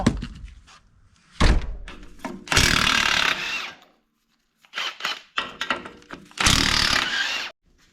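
Tools working loose the rear shock bolts on a GMC Jimmy/Blazer during a 6-inch lift install: sharp metallic thunks and clanks, then bursts of a power tool buzzing, close and loud with short silent gaps between.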